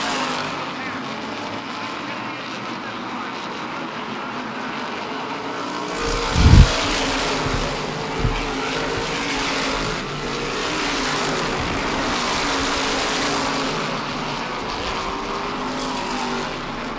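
Race cars in a New England racing series pushing hard after the last restart, a steady broadband engine roar with a sharp thump around the middle, under continuous commentary.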